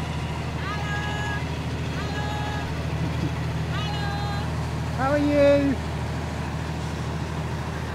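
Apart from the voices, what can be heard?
ferry engine passing close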